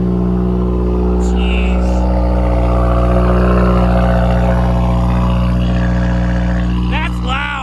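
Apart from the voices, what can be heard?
car engine cold start revving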